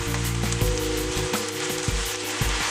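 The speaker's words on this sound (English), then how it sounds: "Add fresh, washed spinach and cook on high for a minute before lowering the heat and cooking for another 2 minutes" Fresh washed spinach with onion sizzles steadily in an oil-free pan over high heat, with a few soft taps of a utensil stirring.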